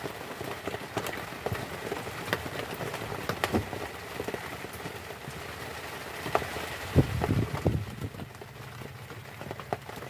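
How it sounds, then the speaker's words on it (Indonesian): Rain falls during an outdoor fishing trip, a steady patter on surfaces and gear with scattered heavier drops and knocks, moderately close and continuous. "Hujan, basah semua."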